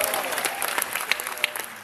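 A live audience claps steadily at a business presentation, dense applause filling the room at moderate loudness with scattered sharper claps and no talking over it.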